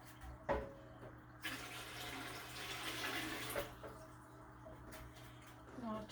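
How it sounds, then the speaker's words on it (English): Tap water runs into a home canning pot, a steady splashing rush that starts after a couple of clunks, holds for a few seconds, then fades to quieter trickling and small knocks. "add some more water to my canner here"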